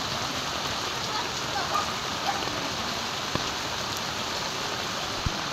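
Heavy rain falling during a typhoon thunderstorm in Dasma, a dense constant hiss of drops on surfaces close by, with a few sharp drip knocks and faint voices underneath.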